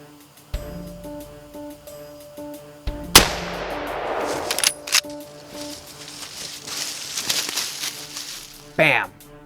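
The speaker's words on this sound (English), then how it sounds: "Put a good shot on him, and instantly I knew I hit him." A hunter fires a single close, sharp gunshot at a deer in a wooded area, followed by a fading echo, scattered rustling and a faint voice.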